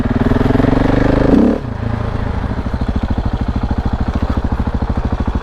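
A KTM 690 Enduro R motorcycle rides single-track trails, its single-cylinder engine pulsing loud and close, a brief rising rev that drops back to a steady, throbbing thump.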